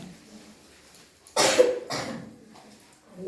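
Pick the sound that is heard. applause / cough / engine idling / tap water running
cough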